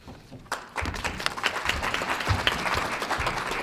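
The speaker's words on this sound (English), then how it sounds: "Let's give a round of applause for all of our speakers today" An audience at a healthcare summit breaks into applause, starting abruptly and building into dense, sustained clapping from a roomful of people, fairly close and steady to the end.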